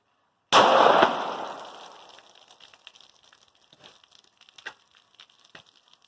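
A single sharp 9mm gunshot from a SAR B6 pistol with a 4.5-inch barrel firing Tula 135-grain jacketed hollow-point ammunition cracks loudly, then rings away into faint rustles and small clicks.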